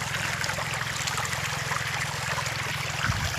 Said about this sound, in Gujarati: અહીંથી જો ગટર ચાલુ થઈ ગઈ છે જો, તમને પાણીનો અવાજ બતાડો જો,